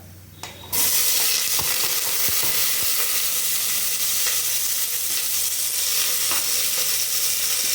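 Onion and curry leaves hit hot oil with chana dal and urad dal in a pan, kicking up a sudden loud, steady sizzle with light stirring clicks, close and continuous after a brief quiet start.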